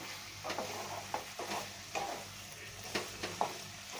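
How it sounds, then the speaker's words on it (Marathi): A spatula scrapes through pumpkin halwa with mawa, green cardamom and nutmeg powder as it is sautéed in a pan, making a soft sizzle broken by several rhythmic stirring scrapes, fairly quiet, with no voices. "आता याच्यामध्ये काय करायचं आपल्याला मावा घालायचा आहे हिरवी वेलची आणि जायफळ पावडर आता हे आपल्याला परतून घ्यायचं आहे"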